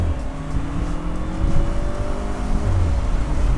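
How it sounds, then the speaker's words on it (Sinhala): Cabin sound of a Mercedes-Benz SLK 200 sports car cruising at about 100 km/h, a steady low engine drone with rising and falling tonal hum over road and tire rumble, constant and fairly loud, no speech. "මම දැන් යන්නේ සාමාන්‍ය පැයට කිලෝමීටර් 100ක් විතර වේගෙන්."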